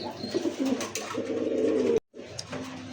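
Pigeons being sold, including Lahori and other fancy breeds, coo repeatedly up close in a continuous rolling murmur, broken by a brief silent gap before the cooing resumes.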